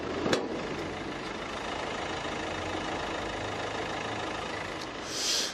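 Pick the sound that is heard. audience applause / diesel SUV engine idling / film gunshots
diesel SUV engine idling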